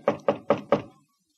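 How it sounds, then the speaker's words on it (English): Four evenly spaced knocks on a wooden ranch house door, crisp and close, each ringing briefly before silence. "He knocks at the door."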